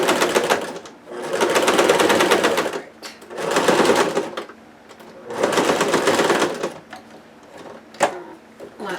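Sewing machine stitching a pinned dress sleeve closed, three loud bursts of rapid mechanical whirring separated by pauses, near and alone, with a few small clicks after.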